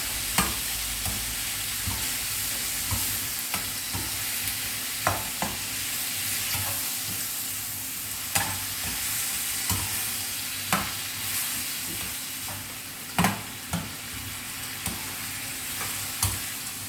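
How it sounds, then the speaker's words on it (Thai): Eggplant and mushrooms stir-fry in a pan, a soft continuous sizzle broken by periodic sharp clacks of the utensil against the pan. "ก็ผัดให้มะเขือกับเห็ดสุกก่อนนะคะพี่น้องค่อยใส่ผักครับ"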